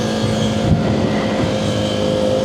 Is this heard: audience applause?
no